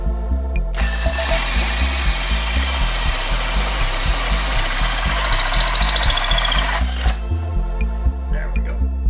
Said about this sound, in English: using a hole saw drill bit to drill a hole 3 5/8 inches, ever so slightly larger than the 3 1/2 inch PVC pipe